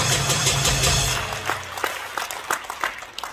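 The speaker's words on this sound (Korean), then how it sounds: "다시 한번 우리 정광훈 목사님께 큰 박수를 보내주시기 바랍니다" Applause from a crowd at an outdoor patriotic church rally in Gwanghwamun Square, starting as a dense, loud wash of clapping that thins within about a second and a half into scattered, sharper individual claps.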